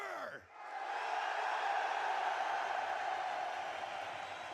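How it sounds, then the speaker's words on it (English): A large esports audience at a CS2 major roars and cheers, picked up by crowd microphones as a sustained, dense wall of voices that swells after a brief dip and holds steady. "Everybody at home knows you can hear those crowd mics."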